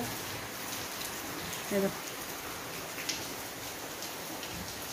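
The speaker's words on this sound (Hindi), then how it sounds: "तो देखो फिर से बारिश हो गई शुरू, दिख रहा है" Rain falls steadily outside as a soft, continuous hiss with faint drips, heard from fairly far off; a voice briefly speaks over it.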